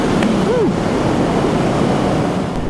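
Loud, constant rushing wind roar close to the mic, air buffeting inside a Scorpion EXO-AT960 motorcycle helmet at speed on the road, with a brief faint tonal whine.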